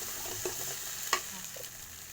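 Egg fried rice is stir-fried in a pan, giving a soft, steady sizzle with a few light scrapes and one brief knock of the utensil, close and fairly quiet.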